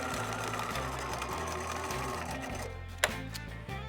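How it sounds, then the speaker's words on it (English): A sewing machine stitching a quilt-style project with star points, a steady rhythmic mechanical whir at close range that stops briefly near the end and then resumes, no speech. "Let's do a sewing project."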